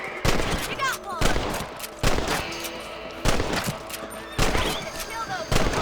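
Rifle shots crack out in Red Dead Redemption during a rabbit hunt, a loud shot roughly every second in a steady rhythm over faint game chatter.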